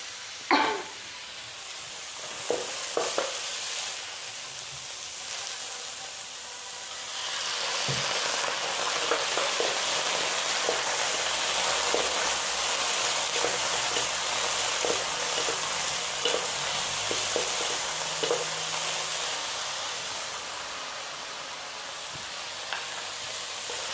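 Shrimp and basil pasta frying in a pan for a Thai-style fusion dish, a steady close sizzle and hiss with scattered crackles and the clink of stirring, no talking.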